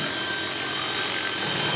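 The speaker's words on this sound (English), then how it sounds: "We're gonna follow the RC car with this remote-controlled helicopter rig, which is also nicknamed a flying chainsaw." Remote-controlled camera helicopter rig flying outdoors, a steady high-pitched buzzing whine like a chainsaw, loud and continuous throughout with no voices.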